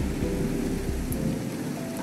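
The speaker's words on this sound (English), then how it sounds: "I think there's a thunderstorm." Thunderstorm in the Roblox game A Dusty Trip: a steady wash of rain with low rumbling thunder rolling underneath, loud and continuous with no voices.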